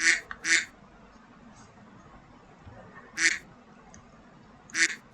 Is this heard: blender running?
no